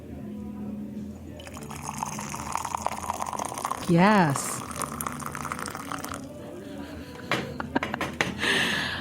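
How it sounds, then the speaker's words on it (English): Coffee being poured during a live in-studio brew makes a continuous liquid trickle under a lively background, with a person briefly speaking and other studio noises and clatter around it. "See if we can get the sound of the pour."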